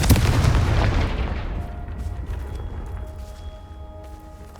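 A Confringo blasting spell explodes in the Hogwarts Legacy video game, a single loud booming blast at the start that rolls off into a long fading rumble.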